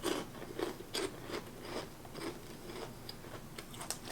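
Repeated bites into a crunchy, light, hollow chip with an onion-ring-like texture, giving a series of sharp, close crunches spaced about half a second apart over faint background hiss, with no talking.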